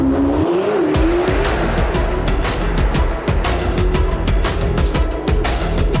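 A Corvette ZR1 roars through a drag racing run, its engine loud and steady for six seconds with a rising drone and tire noise. It sounds close and continuous, with no talk over it.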